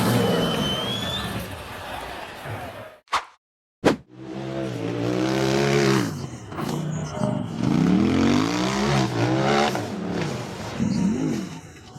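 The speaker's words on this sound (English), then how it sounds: "The white rock bouncer roared to its maximum as it attempted to climb the rough, rocky trail through the forest" A white rock bouncer off-road buggy roars at full throttle up a rough, rocky forest hill climb, its engine loud and close with rising and falling revs, cut by a brief silence partway through.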